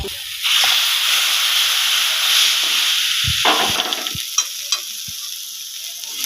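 Steady sizzling of a thick gram-flour (besan) batter frying in a pan over low heat, with a few scraping stirs of a spoon near the end.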